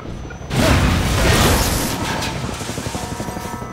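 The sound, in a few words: helicopter in video game Half-Life 2: Episode 2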